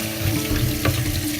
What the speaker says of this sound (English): they have to be washed thoroughly under running water